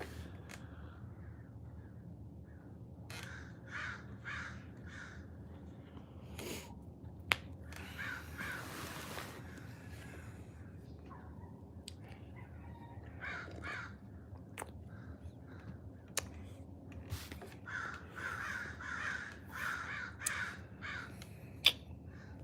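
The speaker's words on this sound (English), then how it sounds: "I love that a big cloud of crows like this is literally called a murder." A large flock of crows perched together in a single tree, giving repeated overlapping caws in bursts across the whole stretch, fairly close, over a steady low outdoor rumble with occasional sharp clicks.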